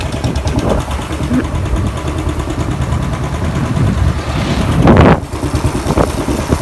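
A motorbike engine drones steadily while riding, with rushing wind noise over the microphone and a louder gust or revving burst near the end, no speech heard.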